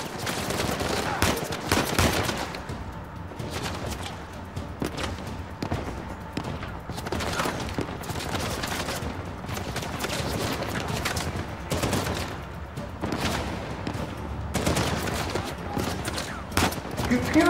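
Gunfire in Uncharted 4: A Thief's End, repeated bursts of shots and automatic fire cracking through a tense firefight, spread irregularly across the whole stretch at a steady, moderately loud level.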